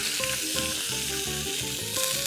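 A T-bone steak sizzles loudly and continuously in a tilted pan, topped with rosemary and butter as the melted fat is spooned over it; a dense, close hiss with faint rhythmic tapping of the spoon, no voices.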